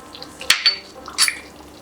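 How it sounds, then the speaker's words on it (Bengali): Spices being stirred into chicken korma in a pan, with two short scraping, clinking strokes of a utensil against the cookware over a faint background, no talking. "এগুলোকে দিয়ে এবার হালকা হাতে আমি নেড়ে এগুলোকে মিশিয়ে দেব।"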